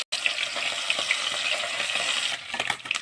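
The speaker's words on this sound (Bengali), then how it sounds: "মাছগুলো ভেজে নেব" Morola fish frying in hot oil give a steady, dense sizzle that fills the clip alone, with a brief break at the start and a few light clatters near the end.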